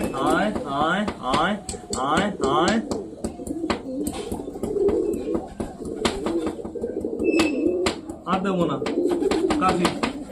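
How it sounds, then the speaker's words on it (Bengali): Domestic pigeons coo on a rooftop, their soft, throaty calls repeating steadily, while a person calls out and talks loudly over them at close range. "এখন আপাতত সবকটা পায়রাই বাড়িতে আছে"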